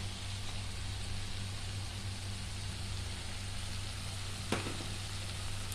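Yogurt is poured into sizzling tomato masala for paneer curry and stirred, making a soft continuous frying hiss under a low steady hum, with one sharp clink near the end.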